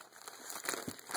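Paper wrapping on a package crinkling and rustling as it is torn open, a soft, close, brief scrunching with no voices.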